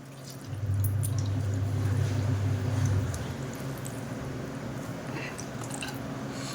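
Whey drips and squishes out of curd hung and squeezed in a cloth, a wet close trickle over a steady low hum, fading slightly after the first few seconds.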